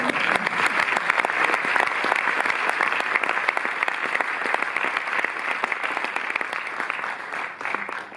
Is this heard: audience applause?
yes